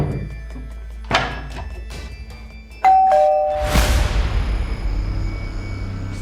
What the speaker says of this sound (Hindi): फिर से कोई घंटी बजा रहा है।